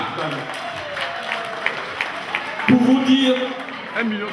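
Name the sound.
audience applauding a donation to the association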